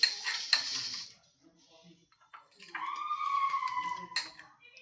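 A metal spoon clinks and scrapes against a pot while dal is stirred and mixed, with a few sharp taps among the softer mixing sounds, as someone talks over it.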